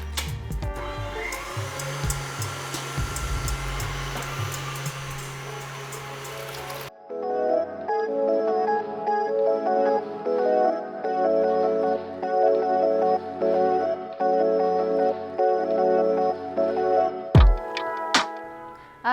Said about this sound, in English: I'm just going to whisk this until the cream forms stiff peaks.